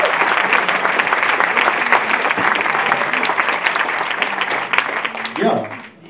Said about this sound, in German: Einen großen Applaus für Renato Kaiser!